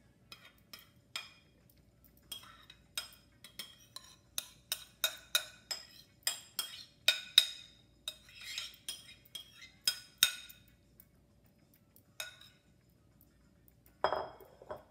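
Lemon basil bean feta salad being spooned into a serving dish, with a quiet run of clinks and scrapes of a utensil against the bowl, irregular and close, ending in a louder clatter.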